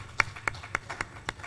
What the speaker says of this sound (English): Team, round of applause for Tigran.